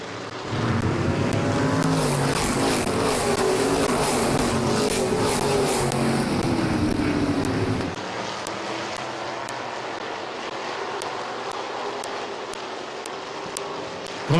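Race cars roar past at Midvale Speedway, a loud engine drone that swells and sweeps by for several seconds before cutting to a quieter distant hum of cars further around the track.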